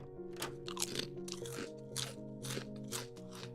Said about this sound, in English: I'm munching.